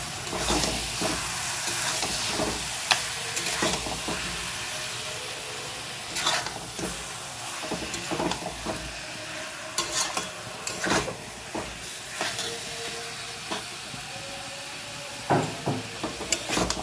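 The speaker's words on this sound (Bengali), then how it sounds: "মাংসটা একটু ভালো করে কষিয়ে নিতে হবে" Mutton sears in a pan with already-fried onions for a Bengali mutton curry, a soft, continuous hiss with irregular spoon scrapes and clatters while being stirred, no voices.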